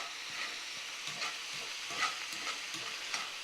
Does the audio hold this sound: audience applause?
no